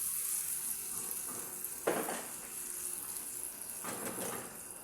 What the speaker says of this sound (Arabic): هنا أضيف الماء الحار. أغمر الدجاج جيدا بالماء الحار